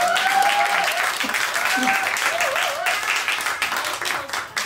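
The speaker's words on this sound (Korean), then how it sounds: "한번 박수 주시죠" Steady applause from a concert audience, a broad wash of clapping that holds for several seconds with some voices and tones mixed in.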